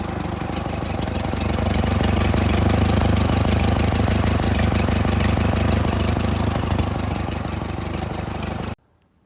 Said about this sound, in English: Just rebuilt the motor. Sounds pretty good.